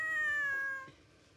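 A domestic cat gives a short, clear meow with a tonal, slightly falling pitch, close by and fading away within about a second.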